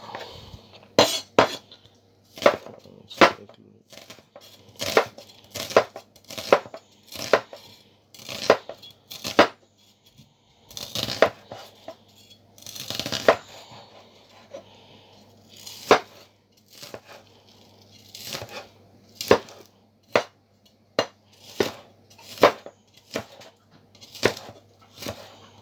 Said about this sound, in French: Vous avez votre oignon qui a été haché.